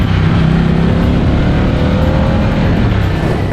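Motorcycle engine under way on the road, a loud, steady low drone with a dense rumble and wind, holding a near-constant pitch throughout with no talking.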